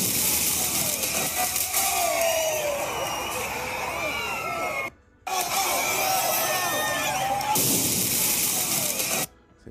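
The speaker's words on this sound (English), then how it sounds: "And you hear cheering, people cheering that stuff on" A crowd in Los Angeles cheers and shouts loudly over a rough, hissy background, the noisy roar running in two long stretches broken by brief gaps of silence.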